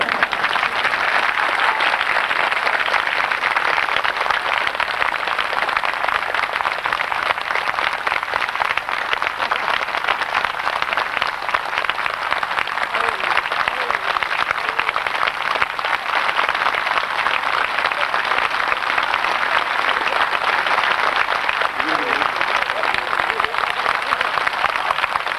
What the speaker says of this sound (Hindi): आप मुस्कुराते हुए तालियां बजाइए।